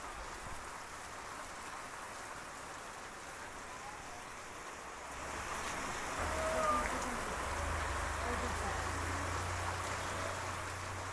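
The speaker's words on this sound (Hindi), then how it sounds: "क्योंकि लगातार बारिश यहाँ पर हो रही है" Heavy monsoon rain in Mumbai, a steady dense hiss of downpour that swells slightly louder partway through, with a low rumble underneath and no voices.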